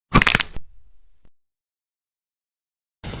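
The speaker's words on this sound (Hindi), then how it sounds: "इसी बबल के फूटने के टाइम जो आवाज़ आती है उसे ही हम क्रैकिंग और पॉपिंग साउंड कहते हैं" A joint cracking and popping, heard as one sharp crack that trails into a faint rumble before a brief soft pop, then silence.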